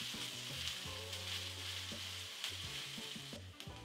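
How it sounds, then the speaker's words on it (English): Onions sauté in hot oil with a steady sizzle and light stirring, while sustained musical tones play over it throughout. "oil is hot, add the onions. Saute this until they start getting translucent."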